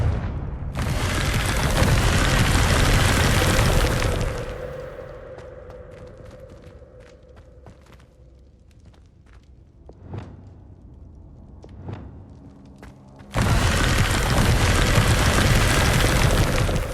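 Confringo blasting spell going off in Hogwarts Legacy, heard as a loud, dense explosive burst from the start that fades into a rumbling tail with scattered small pops and crackles, then a second heavy blast near the end.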